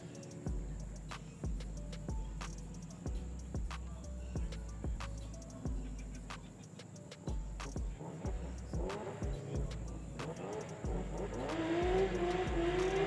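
BMW E46 and Infiniti G35 sedan drift cars running at a street-league drift event, engines revving and bouncing off the limiter with tires squealing, loud and continuous, building toward the end.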